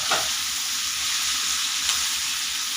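Bottle gourd frying in a pan for a chutney, a steady, fairly loud hiss of frying throughout, with a brief stir or scrape near the start.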